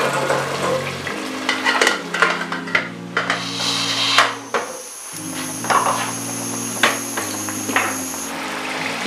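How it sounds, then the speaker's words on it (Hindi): Steady frying and sizzling of mutton in a pot for tahari pulao, with stirring scrapes and clinks, a low hum running underneath throughout. "मटन हमारा बहुत अच्छी तरह भुन गया है।"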